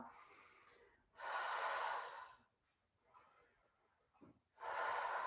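Slow, deep breaths during a Pilates hip lift: a long airy exhale, a softer quiet inhale, then another strong breath, close and alone.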